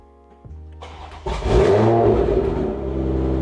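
A Toyota Supra Mk5 (A90) engine cranking and firing up for the first time after a steering wheel install, a brief whir from the starter, then a loud catch and rev settling into a rumbling idle, heard up close.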